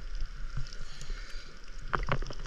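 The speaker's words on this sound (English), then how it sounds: "and that's their boat." A dive boat moving on the water at Anilao, Batangas, with a steady wash of water and engine-like rumble, plus a few brief splashes or knocks near the end.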